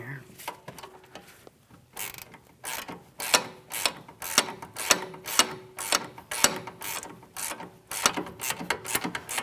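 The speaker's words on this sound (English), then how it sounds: "I'm going to snug it up and torque it to 48 foot-pounds." A ratchet snugs a sway bar link mounting nut on a Chevrolet Malibu, giving repeated quick clicking strokes in uneven bursts, close and moderately loud with no talk.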